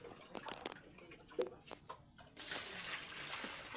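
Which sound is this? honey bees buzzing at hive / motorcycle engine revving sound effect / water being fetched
water being fetched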